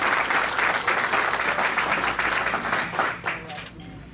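Audience applause at a Rotary Club of Hickory meeting, a steady round of clapping from a room of people lasting about four seconds and fading slightly toward the end.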